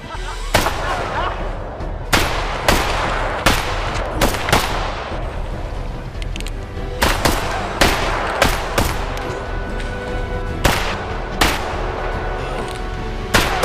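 Repeated gunshots in a video game shootout, sharp loud cracks fired in irregular bursts over a steady rumbling backdrop, with faint talk at times.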